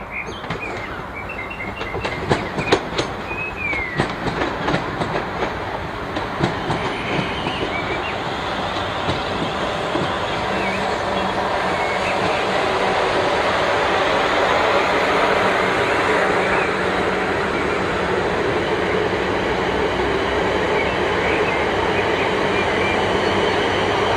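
A Class 442 electric multiple unit on the third-rail line passes with a sustained rushing roar that builds and holds, along with faint clicks and wind noise early on.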